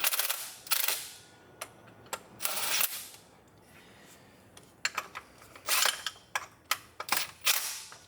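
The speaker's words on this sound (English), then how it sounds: "I'm just going to bring them down to touch using my impact implement" An impact wrench snugs the water pump bolts onto the engine block of a 2009–2018 RAM 1500 with a 5.7L HEMI, firing a series of short, loud, rattling bursts separated by brief pauses.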